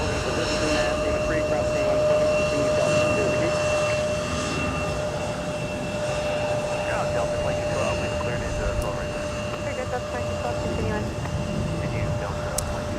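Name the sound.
Airbus A321neo jet at Minneapolis airport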